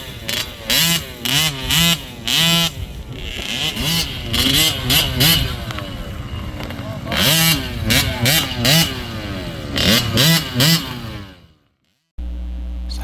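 Motocross dirt bikes race on rough Texas terrain, engines revving loudly and repeatedly, with rising and falling whines as riders shift and accelerate, before the sound cuts off abruptly near the end.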